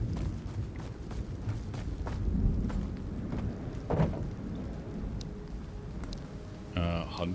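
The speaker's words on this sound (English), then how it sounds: "Yet another storm is rolling through." A thunderstorm sweeps across the Road to Vostok game world: steady, dense rain hiss over a deep low rumble of thunder that swells and fades, with a few sharp knocks and clicks scattered through the roughly seven-second stretch.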